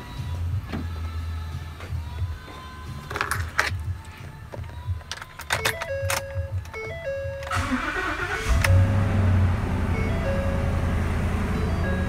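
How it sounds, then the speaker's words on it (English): A Ford F-250 truck with a 6.2 V8, just repaired after a broken valve spring misfire, is started: clicks and chimes sound first, then the engine catches and settles into a steady, even idle rumble. "ready to start the truck up"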